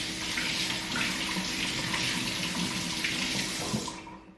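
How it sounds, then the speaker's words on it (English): A kitchen tap runs in a steady, close, full stream as hands are rinsed under it, stopping near the end. "I'm gonna wash my hands, rinse my hands off."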